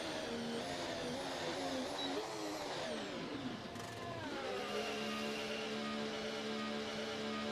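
An F1 2025 car in a racing video game whines at high pitch, its engine note rising and falling through gear shifts along a straight, fairly faint and with no talking.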